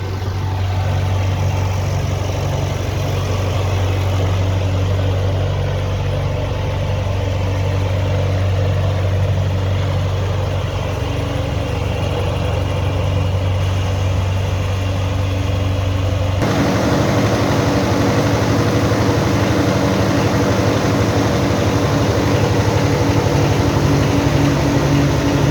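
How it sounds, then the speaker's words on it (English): A John Deere 303 vineyard tractor, French-built with a Standard Motor Company engine, runs steadily at idle nearby, a loud low throbbing drone that shifts slightly in tone partway through, with no talking. "A John Deere 303 vineyard tractor."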